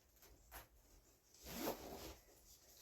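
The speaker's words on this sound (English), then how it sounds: "And it all zips in real nice." A zipper is drawn closed around the cover of a portable fire pit, two quick close zips followed by a longer, louder rasping pull, with no talking.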